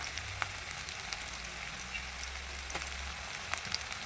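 Sliced carrots and cauliflower fry in hot oil for chow mein, with a low, steady sizzle and soft crackling pops running throughout, faint and unbroken by speech.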